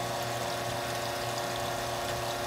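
GrowoniX Flow Box 1000 pump running at about 150 psi, giving a steady, loud, unbroken hum with a faint watery hiss and no talk over it.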